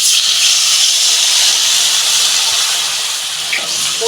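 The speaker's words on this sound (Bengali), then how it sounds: "পরিমাণ মতো জল দিচ্ছি" Water hits a hot pan of ridge gourd and potato cooking with poppy seed paste, giving a loud, continuous hissing steam sizzle that holds steady throughout and eases off slightly near the end.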